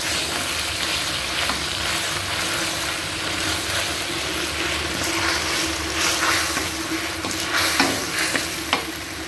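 A spoon stirs chicken manchow soup ingredients with soy sauce and vinegar in a hot pan, giving a steady frying sizzle and scraping throughout, with a few sharper clinks of the utensil near the end and no talking.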